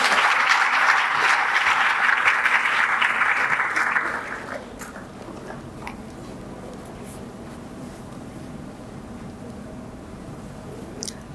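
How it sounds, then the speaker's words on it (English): Students at a law school orientation programme applaud to welcome their dean, a loud, dense burst of clapping for about four seconds that then drops to a low room murmur. "Let's welcome her with a warm round of applause."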